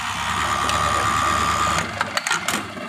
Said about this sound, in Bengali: এখন এই যে এই প্যাডেল দিয়ে মেশিন চালানো, একবার চাপ দেবে, মাত্র একবার চাপ দিলেই আপনার বাটন হোল হয়ে যাবে